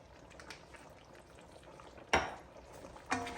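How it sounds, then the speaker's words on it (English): Oxtail in a pot is stirred from the bottom with soft bubbling and sizzling beneath, as a utensil scrapes and knocks against the pot in two sharper clanks near the end. "You're gonna take it from the bottom like that, and you are going to stir it up."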